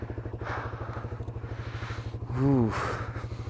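A motorcycle engine idles in neutral outside a house at night, a steady close, rapid low putter running throughout, with voices talking over it.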